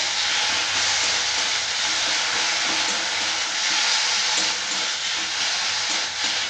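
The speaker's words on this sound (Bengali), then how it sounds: "আদা পেঁয়াজ রসুন বাটা। 1 চামচ, বেশি দেওয়ার দরকার নেই, সামান্য 1 চামচ দিলেই হবে। এবার এটাকে ভালো করে কষিয়ে নিতে হবে।" Ginger, onion and garlic paste sautés in a pan while cooking a panchmisali vegetable dish, giving a steady, close hiss and sizzle throughout with faint scraping of stirring and no talking.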